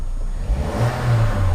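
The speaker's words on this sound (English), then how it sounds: "the engine sounds absolutely spot on." Vauxhall Vectra SXi running on LPG gas, its engine revving steadily with a low, smooth mid-range drone that swells slightly, heard up close with no talking.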